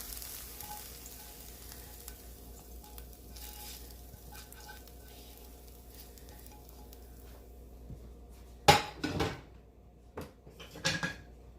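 Onions frying in a pan with salt and pepper while meatballs are prepared: a low, steady sizzle runs throughout, followed near the end by a few loud clanks and scrapes of stirring.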